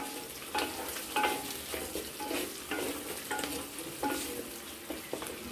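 Onions fry with turmeric powder in a clay wok under a steady sizzle, broken by repeated scraping strokes of stirring in an irregular rhythm, close up, with no talking.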